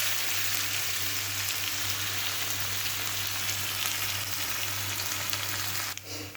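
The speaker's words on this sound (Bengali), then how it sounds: "মাছ আর পেঁয়াজটাকে আমি আরেকটু ভালো করে লাল করে ভেজে নেব।" Dried fish and onions fry in hot oil in a pan for a Bengali chutney, giving a steady, dense sizzle close up with no talking.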